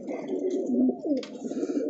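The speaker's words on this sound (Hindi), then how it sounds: "ये कबूतर है मेरे हाथ में एक।" Hand-held domestic pigeon giving a low, throaty coo that rolls on steadily for about two seconds, close to the mic with no talking over it.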